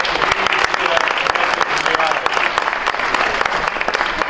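An audience at a meeting applauds, a dense steady clapping that fills the room throughout, with a voice talking faintly underneath.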